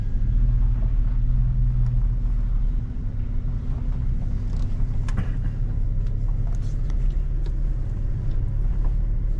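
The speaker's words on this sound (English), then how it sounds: "we're gonna drive across here" A car drives slowly across rough ground on a trip outside Indiana, a loud steady low rumble of engine and tyres with wind buffeting the microphone throughout and no talking.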